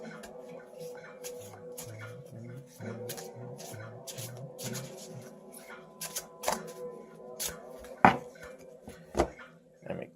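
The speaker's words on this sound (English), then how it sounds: "let me do a couple of shuffles this way" A deck of playing cards is shuffled by hand close up, giving a run of quiet, rhythmic riffles and rustles. Sharper taps and snaps follow toward the end over a faint background hum.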